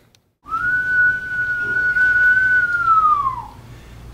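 A single long, steady whistle rings out in a gym, loud and close, holding one pitch for about three seconds before sliding down and cutting off over a low background hum.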